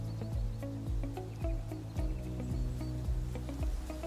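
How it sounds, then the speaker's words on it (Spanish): A Southeast Asian rainforest hums with a steady, dense drone of insects, overlaid by repeated low sweeping calls and intermittent clicks, a continuous layered ambience with no clear foreground voice. "el zumbido de los insectos"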